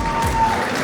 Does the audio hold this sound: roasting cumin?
no